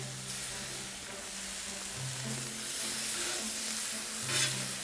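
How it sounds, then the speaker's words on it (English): Back bacon sizzles steadily in a frying pan alongside mushrooms, a constant close crackling hiss with a faint tonal hum underneath. "Get some back bacon on."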